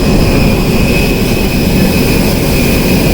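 Airplane jet engine heard from inside the cabin, a loud, steady low roar with a constant whine above it, filling the space without talk.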